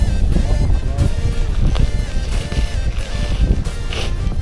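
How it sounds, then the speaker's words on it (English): Steady wind gusting across a frozen Minnesota lake during ice fishing, a loud rumbling buffet on the microphone that runs throughout with brief swells. "It's breezy out here today."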